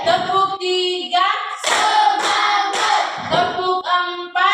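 A class of fifth-grade children clap their hands in a steady counted rhythm, sharp bursts of claps mixed with sung, chanting voices in a classroom lesson.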